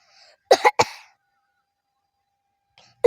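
A person coughs close by in two or three harsh, quick bursts, then silence follows with a faint sound near the end.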